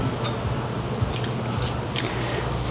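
Scissors cut through waterproof apron fabric in a few crisp, close snips spaced about a second apart.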